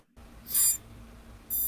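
Two short, shrill high-pitched electronic beeps from an FPV drone, spaced about a second apart, over a low steady hum.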